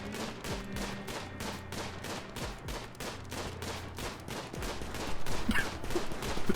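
Rapid volleys of gunfire from a colonist hunting in the video game RimWorld, dense repeated shots crackling steadily throughout and growing slightly louder near the end, with no talking.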